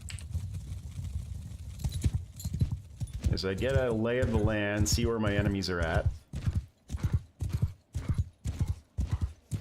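Rhythmic hoofbeats of horses galloping in the video game Mount and Blade II: Bannerlord, with someone talking over them and a horse whinnying briefly in the middle.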